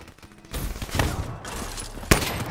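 A FFAR assault rifle fires in the video game Call of Duty, giving rapid bursts of gunfire with one sharp, loud crack standing out near the end.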